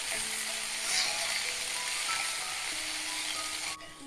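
Steady, even sizzle of mint leaves sautéing in a hot pan for pudina thokku, a continuous close frying hiss that drops off slightly near the end.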